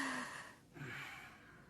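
A single deep, breathy inhale, quiet and close, rising then easing off.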